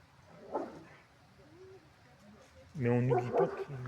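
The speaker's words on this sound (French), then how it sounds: "il y a une bagarre de chiens" Dogs fight near a castle, with a few scattered yelps and whimpers, then a loud burst of harsh, overlapping barking and snarling toward the end; a voice talks faintly underneath.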